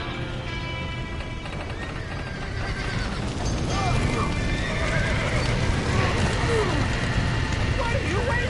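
Horses in the Red Dead Redemption video game neigh and whinny repeatedly during a chaotic scene, with hooves clattering and shouting voices mixed in, the whinnies loud and overlapping as the commotion builds.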